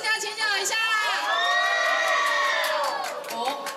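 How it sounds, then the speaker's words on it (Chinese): A crowd of fans cheers and screams shrilly for a fan's dance at a Dream Girls fan event, a loud, sustained chorus of high-pitched yells lasting several seconds. "来，觉得我们第二位男生跳得好的，也给他掌声加尖叫一下"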